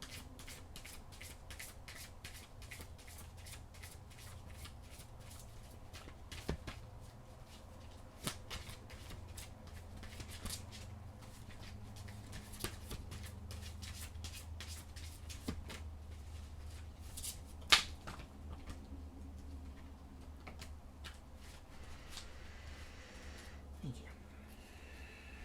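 Tarot cards being shuffled by hand, a long run of soft rapid card flicks and riffles with scattered sharper taps, quiet and close, with a voice speaking at times.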